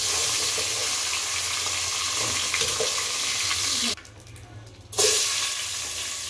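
Vegetables sizzle and fry in a pan, a steady dense crackle that drops out briefly for about a second before resuming loudly.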